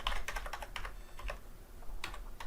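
A computer keyboard clatters under quick, irregular typing, with close, crisp key taps in short clusters and small pauses between them.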